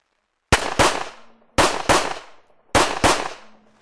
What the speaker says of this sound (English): Next, we'll fire the Colt 45 ACP, US military service pistol,